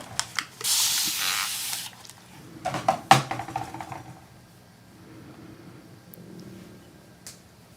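A spray bottle mists water onto an acrylic painting in a short loud hiss, then a few brief quieter spritzes and soft handling sounds follow.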